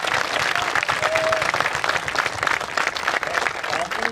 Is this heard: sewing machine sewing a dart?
no